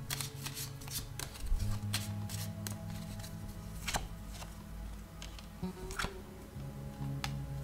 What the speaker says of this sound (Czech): zamíchám si kartičky a podíváme se